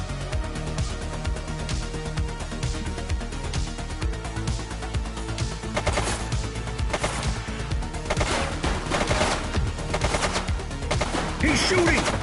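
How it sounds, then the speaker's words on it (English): Gunfire in The Precinct, a police video game: loud, dense bursts of rapid shots and automatic fire that roll on without a break, with shouting voices mixed into the din. "Shots fired!"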